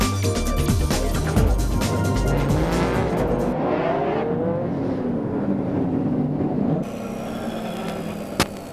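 A Champion Audi race car engine howls at Sebring during a Speed World Challenge GT race, loud and close, with rising and falling revs through gear changes and a smoother steady drone later on.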